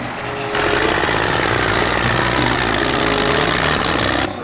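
Toy tractor's electronic engine sound effect, a loud, steady, rattling chug that runs continuously for about four seconds and then stops, with no talking.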